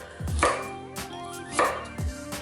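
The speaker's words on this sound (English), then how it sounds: "we're gonna use one small carrot. Cut this on a bias so I get more surface area" A knife slices a small carrot on a bias on a cutting board, several crisp chopping strokes spaced roughly half a second apart, close and clear with no talking.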